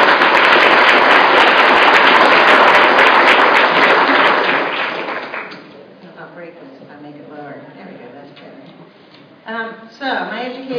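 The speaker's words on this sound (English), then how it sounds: "Well, I think they deserve a round of applause" An audience applauds veterans at a district day session with a thick, loud burst of clapping that fills the first half, then fades out, leaving a voice talking and a few brief noises.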